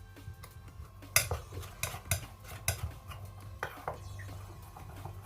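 A spoon stirs a homemade pineapple extract skin mixture in a small container, producing quiet, irregular metallic clinks and taps close by, with no talking.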